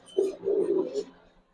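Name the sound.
young male silver pigeon cooing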